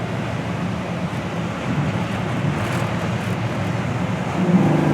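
A 1964 Pontiac GTO with tri-power carburetors pulling under acceleration, a low steady engine rumble with road and wind noise that swells toward the end.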